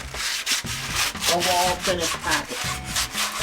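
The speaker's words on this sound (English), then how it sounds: "So just continue sanding." A wooden canvas frame being hand-sanded, with repeated rough rubbing strokes in a steady back-and-forth rhythm, close and fairly loud, while a voice speaks briefly over it.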